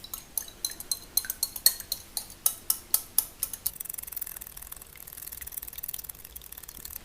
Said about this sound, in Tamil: ரெண்டு முட்டையை உடச்சி நல்லா இதை கலக்கிக்கணும்.